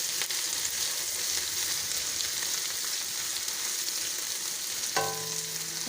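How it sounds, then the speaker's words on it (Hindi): Ginger garlic paste, green chilli and onion fry in a pan with a dense, steady sizzle throughout, close up, with a light clink near the end. "अदरक लहसुन का पेस्ट अच्छी तरह फ्राई हो गया है।"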